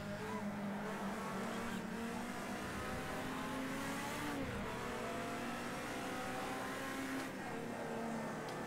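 Video game racing cars, including a Datsun, drive with a steady engine drone and shifting revs, close and continuous, with faint tire noise and no talking.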